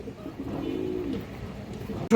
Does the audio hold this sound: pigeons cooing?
yes